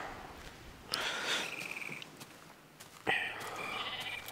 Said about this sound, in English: There goes one sheep.